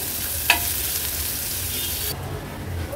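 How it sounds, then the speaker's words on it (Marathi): Finely chopped onion sizzles steadily in a pan over a low flame, a constant close frying hiss with one sharp spoon clink early on. "आता कांदा व्यवस्थित आपण शिजवून घेऊया"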